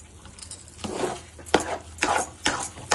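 A sweet 7 cup mixture is stirred briskly in a pan over a raised flame, with repeated scraping strokes of a spoon against the metal coming in uneven bursts, close and fairly loud, with no talking.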